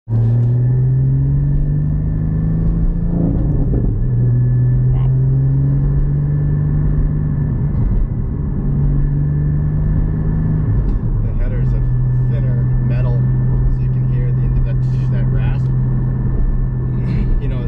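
A Porsche Cayman GT4 fitted with a Fabspeed exhaust hums with a loud, steady engine drone heard from inside the car, its pitch shifting a few times, while people talk over it.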